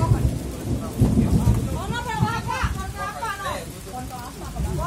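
A lightning storm brings rumbling thunder and steady rain, with an excited voice talking over the storm noise throughout.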